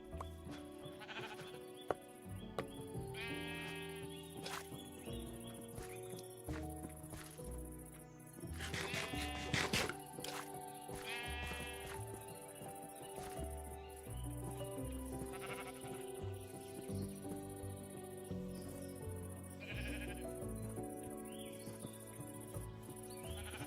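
Sheep bleat in a cottage-building video game: several bleats rise at intervals over layered game music and ambient background, fairly faint in the mix, with no talk over them.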